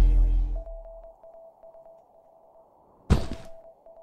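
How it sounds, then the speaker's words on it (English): In the horror game Resident Evil Village, a thud gives way to a faint, steady string of short electronic beeps in a Morse-code-like pattern, broken by another heavy knock partway through. "See that beep, beep, beep like Morse code?"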